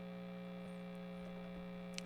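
A PRS MT15 tube amplifier set to its lead channel, running with its tube shields removed, gives off a steady, low mains hum and buzz with faint crackle, heard alone at a quiet level.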